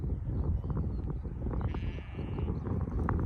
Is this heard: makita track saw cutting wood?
no